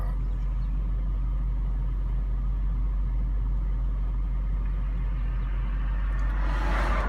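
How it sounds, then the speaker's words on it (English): Cars pass along a street on a quiet Saturday morning, a continuous low rumble of traffic that swells slightly near the end, heard from nearby with no talking. "So as I'm sitting here, cars are passing by."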